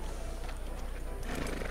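Horse hooves clip-clop steadily with a whinny rising toward the end, from a horse in the Red Dead Redemption 2 video game, heard close and clear without talk.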